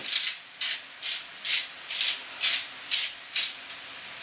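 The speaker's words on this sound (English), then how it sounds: "so I give a good 8 grinds of salt. And 5 grinds of pepper." A salt grinder is twisted over partly cooked meat, making eight even, rhythmic gritty grinding bursts, close and clear with short pauses between them.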